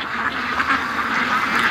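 Ducks raised on a property quack loudly and continuously in a dense chorus of overlapping calls, close by, as they run around outdoors.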